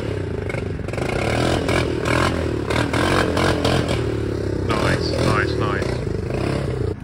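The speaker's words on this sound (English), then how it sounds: "you want to see me wheel this bike or that bike?" Motorcycles run at Carter Off-Road Park during Carter Fest, engines revving and clattering close by under loud ongoing talk.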